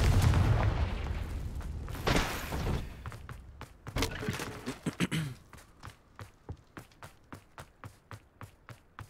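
In Hogwarts Legacy, cast fire spells burst with heavy booming blasts, followed by a run of sharp, evenly spaced thuds that fade toward the end.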